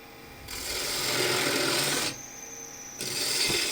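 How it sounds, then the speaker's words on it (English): A spindle gouge cuts along a spinning wooden blank on a lathe, truing it up starting at the tenon: a steady close rasping scrape in two long passes with a short quieter gap between them, no talking. "now first step is just to true it up, and for that I'm using spindle gouge"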